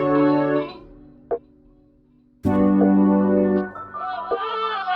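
Vocal sample with its highs and lows cut, playing as a thin, midrange-heavy phrase: sustained harmonic notes with a short gap and brief blip, then a louder held passage and a lighter melodic tail, no talk over it.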